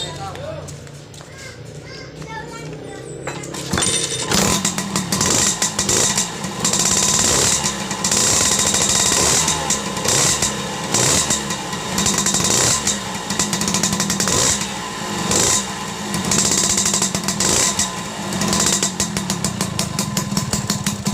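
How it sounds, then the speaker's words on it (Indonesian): A Force 1 motorcycle engine runs after its CDI ignition unit is replaced. After a few quiet seconds it starts up and settles into a loud, busy idle with a steady rapid beat that lasts the whole stretch, with voices and children nearby. "motor udah hidup normal kembali"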